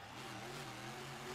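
A monster truck engine at a freestyle show rumbles as a steady, loud drone with crowd and arena noise mixed in, and no talk is heard.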